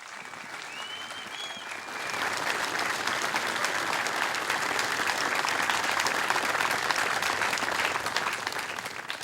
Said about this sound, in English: I ask today that you remember them with a large round of applause.